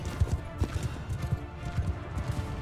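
Horse hooves gallop in Mount & Blade II: Bannerlord, a quick steady clip-clop of thudding beats running throughout, close and fairly loud, with no talk over it.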